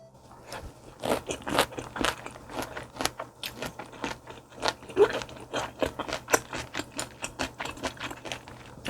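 Bossam eaten with kimchi gives repeated crisp, crunchy bites and chewing noises up close, a steady uneven run of sharp crunches with no talking.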